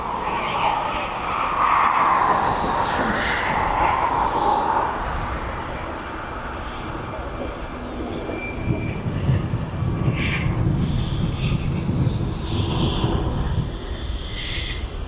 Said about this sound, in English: there's Specsavers Aviation King Air is coming out.